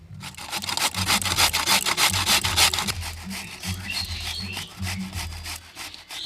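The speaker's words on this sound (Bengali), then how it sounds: "গাজরটা মেশিন দিয়ে কুচিয়ে নিচ্ছি" A kitchen machine chops carrot for vegetable momo filling, giving a continuous rough whirring and grinding that throbs in quick uneven pulses, close and fairly loud, easing slightly toward the end.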